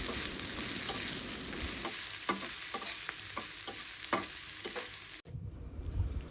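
Small shallots and asafoetida sauté in hot oil as a tempering, a moderate continuous sizzle with repeated spoon taps and scrapes before the sound cuts off abruptly near the end.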